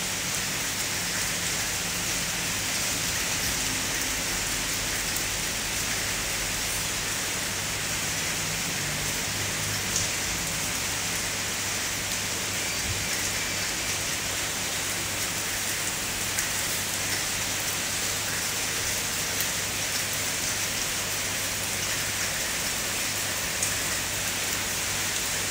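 Steady rain falling outdoors, an even hiss of drops on surfaces continuing without break for the whole stretch, with a faint low hum underneath.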